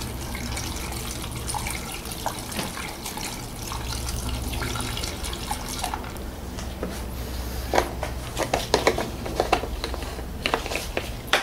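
Screen wash liquid is poured into the washer reservoir of a 2006 Toyota Corolla, a soft continuous gurgling trickle with a few sharper splashes toward the end, close and fairly quiet.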